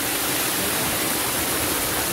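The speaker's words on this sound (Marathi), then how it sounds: "हा आहे धबधबा मायनर" A small hidden waterfall in the Konkan countryside roars steadily, a dense, even rush of falling water heard up close and alone.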